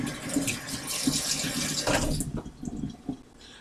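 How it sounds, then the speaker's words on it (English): Cold tap water runs over portobello mushrooms in a kitchen sink, a steady broadband splashing rinse for about two seconds that then breaks into lighter, intermittent drips and trickles. "Now I'm going to rinse a little cold water on our mushrooms here,"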